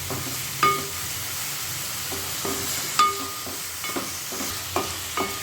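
Cabbage fried rice with salt stirred and tossed in a pan, a low continuous sizzle punctuated by several distinct spatula clinks and scrapes at irregular intervals, close by, without any voices.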